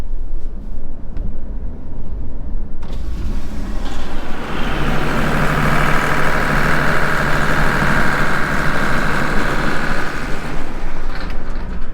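Truck engine driving along a newly compacted farm track, a loud steady rumble with a brighter whining drone building in after a few seconds, continuous and close.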